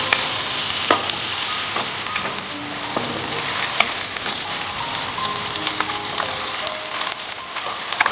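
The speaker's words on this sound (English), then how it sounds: "So we're going to cook these onions for a few minutes till they soften up." Onions sizzle steadily in a hot pan for a beef mince and split pea curry, a dense, even crackle with scattered pops and light stirring ticks, close up and without talk.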